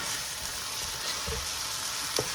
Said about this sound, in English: And I'm going to quickly stir fry it.